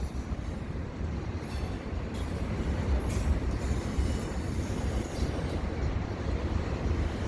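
A CN freight train loaded with containers rolls past in a continuous heavy rumble, wheels clattering steadily on the rails at moderate distance.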